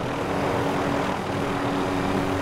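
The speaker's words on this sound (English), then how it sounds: "Someone's gonna try to take the chopper though." Helicopter rotors in Call of Duty Warzone give a steady, dense whirring drone that holds unbroken and fairly loud, with no voices.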